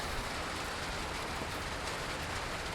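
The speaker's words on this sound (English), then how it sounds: "I had to get out of this rain" Steady rain falling outdoors at an RC flying field, where an E-flite Carbon Z T-28 model plane is being flown; a dense, even hiss of rainfall continues without pause throughout, with no voices.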